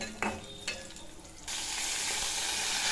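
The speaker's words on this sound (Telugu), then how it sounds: "మంచిగా గోలాలండి మిరపకాయలు" Chillies frying in a pan while cooking an amaranth-leaf (thotakura) dish, a soft scrape or two at first, then a steady, close hiss of sizzling oil filling the rest.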